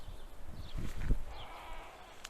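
Newborn lambs bleat in short, thin cries at close range, a few calls overlapping amid faint barn background noise.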